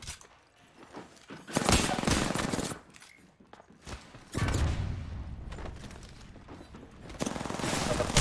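Video game gunfire crackles in loud, rapid bursts of automatic shots, with short pauses between volleys and brief mechanical clatter, heard close and without talking.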